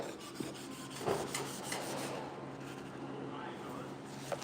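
Dry sanding a 1968 C10 front grill by hand with 400 grit sandpaper in cold outdoor air gives a steady, close scratchy rasp with a few sharper strokes, while a voice talks at times.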